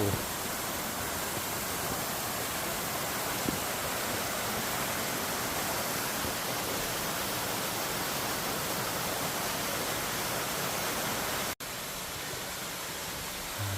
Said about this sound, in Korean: 아기자기한 폭포들이 계속 이어지고 있습니다